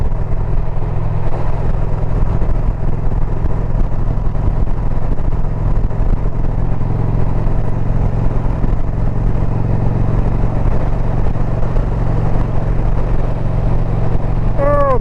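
Motorcycle engine running steadily during a ride in cool weather, a continuous loud drone with low rumble and wind noise throughout, no clear revving peaks.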